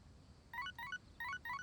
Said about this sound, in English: Got a text message.